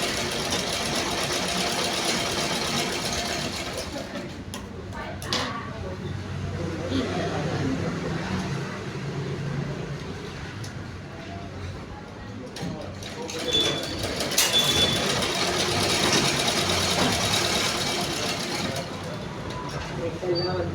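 A sewing machine runs in long steady bursts while a blouse is stitched, a close mechanical whir with brief pauses and clicks, with people talking over it.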